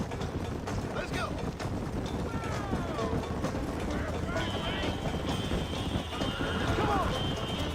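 Horses gallop in a race in the video game Red Dead Redemption, with rapid hoof clatter and occasional whinnies under a steady din while someone talks over it.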